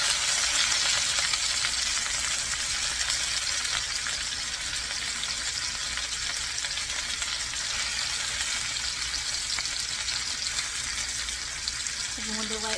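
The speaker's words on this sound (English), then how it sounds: "I'm going to let the other side get a little brown, and then we'll take it out" Sous vide chicken browns in a pan, a steady broadband sizzle holding evenly throughout, close and fairly loud, with no talk over it.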